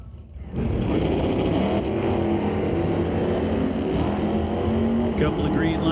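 Drag racing launch at a raceway: a black Chevy Nova in the right-hand lane and a 1968 Camaro roar off together, a loud sustained engine howl that holds steady for several seconds with faint voices underneath.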